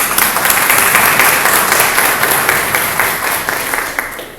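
A church congregation claps for the newly baptized, a steady, loud burst of crowd applause that runs the whole time and tapers slightly toward the end.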